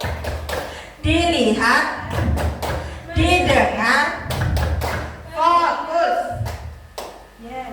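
A school class performs the 'tepuk fokus' focus clap, with sharp rhythmic claps in short bursts mixed with children's chanted voices, loud and close.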